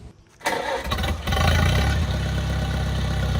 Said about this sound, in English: It was a little Cub Farmall tractor.